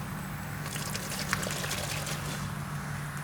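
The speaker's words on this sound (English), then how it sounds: "You're just going to pour some ammonia in each bag." Ammonia trickles and pours into a plastic bag holding oven racks, a soft, steady liquid stream with faint splashes that lasts about three seconds.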